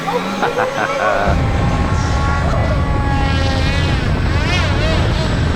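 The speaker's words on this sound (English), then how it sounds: "Alright, Seth, it's time to land on a 9-foot airplane" A 9-foot foam model airplane flies overhead with a drone near it, giving a loud steady propeller whine with a wavering pitch. People talk over it and a dog barks briefly near the start.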